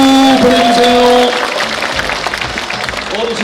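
An audience of senior association members and guests at a political report meeting breaks into loud, sustained applause that fills the hall, with a voice speaking over the clapping near the start.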